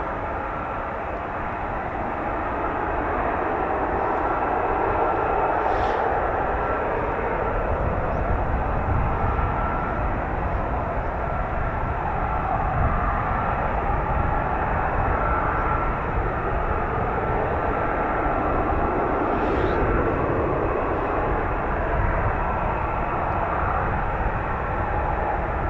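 F-35B stealth fighter jets at a busy naval air squadron airfield, a broad continuous jet roar that holds steady for the whole stretch at a moderate distance, with no voices.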